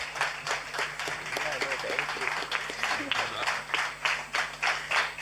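An audience claps for a violinist taking the stage at a Carnatic music concert honouring Dikshitar. The claps come in a brisk, fairly rhythmic patter with a voice speaking over them.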